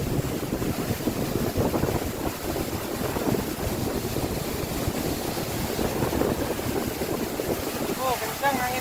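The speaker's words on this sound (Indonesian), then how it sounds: "Oh, kencang anginnya." Strong wind roars steadily across the microphone beside the Curug Cimayang waterfall in Bojong Manik, Lebak, Banten, a dense broadband rush with rushing water underneath, and a voice speaks briefly near the end.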